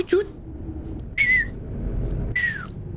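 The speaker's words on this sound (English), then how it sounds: "I can't really whistle too well." A person whistles a few short, slightly falling notes, two separate chirps with talking and soft background noise between them.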